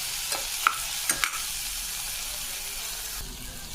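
Ginger garlic paste fries in a pan with vegetables for tomato pulao: a bright, continuous close sizzle, with a few scraping stirs and clinks early on before it settles into an even hiss.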